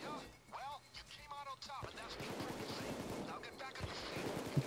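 Gunfire in the video game Payday 2 keeps up as a dense stream of rapid shots and crashes, with talk over the first two seconds and the battle noise running loudly to the end.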